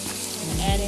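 Butter, garlic and a soy sauce and vinegar mixture hiss and sizzle steadily in a hot pan at close range, a brief continuous frying sound with no talk.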